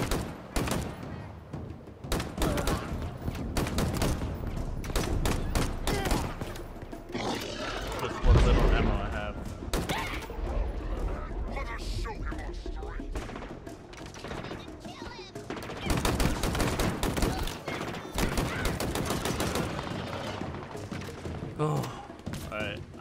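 Gunfire in the Halo Infinite campaign: dense bursts of rapid automatic shots and blasts, loud and close, rising and falling in volume over the whole stretch with a heavy low impact near the middle and a voice occasionally talking over it.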